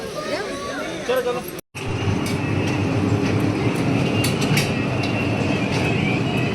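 A train rumbles steadily at close range with a dense low roar, briefly cut off early on, while a voice speaks over the start.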